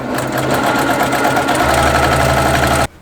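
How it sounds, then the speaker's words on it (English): A sewing machine stitches a Kimberbell Cuties quilt topper in a steady, loud, fast mechanical whir that runs continuously, then stops abruptly just before the end. "I'm going to start sewing way out here on the tip"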